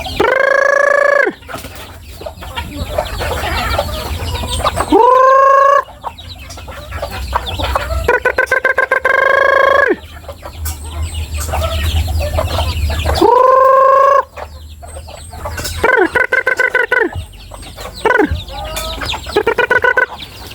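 Chickens and roosters at a gamefarm cluck and crow loudly and continuously during feeding, with several crows cutting through the steady flock chatter.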